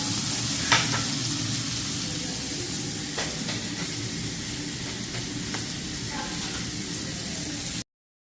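Garlic, onion and tomato sauté in a hot pan with a loud, continuous sizzle and hiss and a few light scrapes of a stirring utensil, steady for the whole span before cutting off abruptly.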